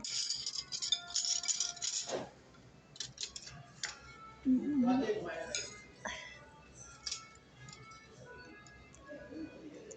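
A spoon and fork clink and rattle as cutlery is handled, with bright, irregular metallic taps scattered through the clip under people talking nearby.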